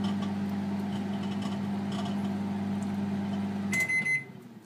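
Microwave oven humming steadily as it finishes cooking rice, then stopping with a short bright beep near the end, heard close with no talk.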